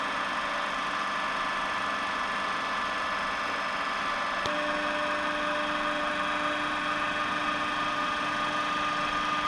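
A DC shunt motor runs in a laboratory brake-test setup, speed adjustable up to 1500 RPM, giving a steady, even electrical hum and whine. Partway through there is a single click, and the tone shifts slightly after it.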